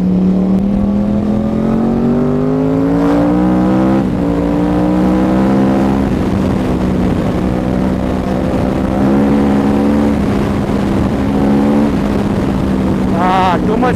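A loud Yamaha R1 with a cross-plane engine and Toce exhaust revs and accelerates through Mumbai traffic, its deep droning exhaust note rising and falling with gear changes, close and dominant for the whole stretch.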